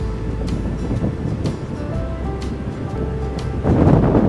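Sea waves wash along the coast during a fishing trip, a continuous rushing roar mixed with wind buffeting the microphone, swelling louder in a final surge.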